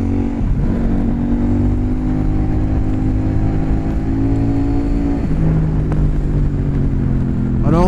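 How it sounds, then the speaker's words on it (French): A CF Moto 800 NK motorcycle accelerating, its engine note rising steadily through the revs with brief dips at gear changes, loud and close, with wind noise underneath. "Franchement, elle envoie bien, le moteur se comporte bien."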